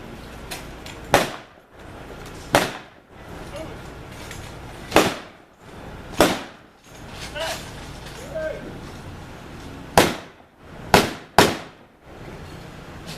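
A machine gun team fires a display during a battle demonstration, roughly ten sharp reports in irregular spaced bursts, with a voice talking in the gaps.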